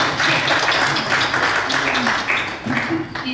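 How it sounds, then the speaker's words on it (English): An audience at a library symposium breaks into steady, dense applause that fills the room, with voices mixed in underneath. "Let's give him a round of applause."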